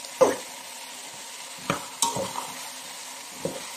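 Cabbage fries in a pan under a quiet bed of sizzle while a utensil stirs and scrapes it in a few distinct, separated knocks and swishes, close and clear with no talking.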